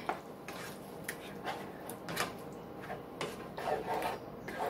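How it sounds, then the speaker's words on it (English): Tortellini stirred in a pot as cheese melts into the sauce, a steady close scraping and rubbing of a spoon against the pot with soft wet squelches, repeated strokes and no talking. "And then you're going to stir it in there real good."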